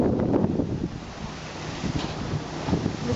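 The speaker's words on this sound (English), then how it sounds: "waves are breaking against the seawall" Heavy surf from Hurricane Irene breaks against a seawall at East Beach, Rowayton, with rough rushing bursts and wind buffeting the microphone, loud and close with no talk.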